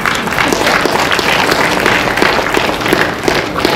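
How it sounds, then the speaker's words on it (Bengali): Audience at a drama festival applauding, dense loud clapping from a crowd close by, steady throughout with no break. "যখনই তালি দেওয়ার সুযোগ পাবেন একটু মন প্রাণ করে তালিটা দিন"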